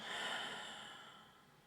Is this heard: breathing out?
yes